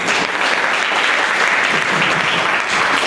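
Steady, dense applause from an audience at a 15 August Independence Day performance in Shahganj, Jaunpur, continuous and loud throughout.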